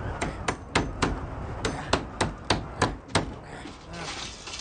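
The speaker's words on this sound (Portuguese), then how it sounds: "Usa logo esse martelo e prega isso aí" A hammer drives nails into a wooden board being fixed across a door, about ten sharp, steady blows in quick rhythm, close and loud.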